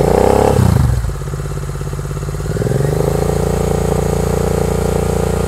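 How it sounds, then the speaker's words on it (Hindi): A Royal Enfield 650 twin fitted with a Gursewak exhaust blips its throttle, drops back to a steady idle burble, then climbs to a sustained higher rev around 3000 rpm, loud and close. "अब हम लोग रेव करके देखते हैं 3000 आरपीएम तक."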